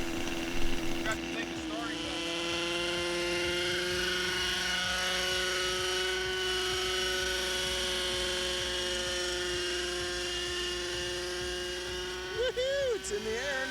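A nitro-engined Super Mantis RC helicopter flies at night, its engine a continuous, strongly tonal droning whine with rich harmonics. The whine holds steady throughout, with slight pitch wavers near the end.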